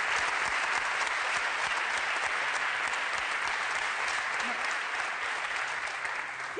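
Sustained audience applause in a television studio, dense and steady throughout with no voices on top, fading slightly at the very end.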